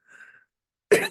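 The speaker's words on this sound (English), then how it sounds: "so I'm gonna have to clear my throat." A single short throat clearing, sharp and close, after a brief faint tone.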